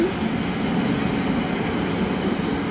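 A locomotive rumbles past at Budapest Kelenföld station, a loud, close, steady roar of engine and wheels on rails with no voices.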